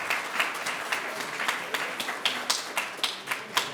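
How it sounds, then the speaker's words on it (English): An audience claps steadily, a dense patter of many hands at moderate volume lasting the whole stretch without pause. "Round of applause."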